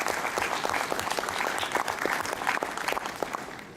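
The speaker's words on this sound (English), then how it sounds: "Can we have a big round of applause for that?" Audience at the India Licensing Expo 2017 breaking into steady applause, many hands clapping in a dense, continuous patter at moderate level throughout, with no voices standing out.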